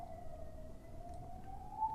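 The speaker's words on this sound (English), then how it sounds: "There's a siren." A steady siren tone wails in the distance, slowly rising in pitch over a low background rumble, with no one speaking.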